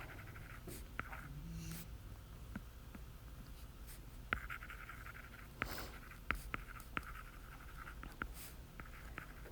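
Pen scratching on pieces of paper while writing numbers, a quiet close sequence of short strokes and taps with brief pauses in a still room.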